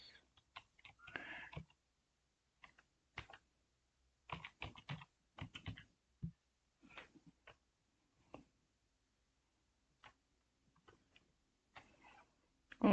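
Keys clatter on a computer keyboard in short scattered bursts of quick clicks separated by pauses, close and fairly quiet, with no voices.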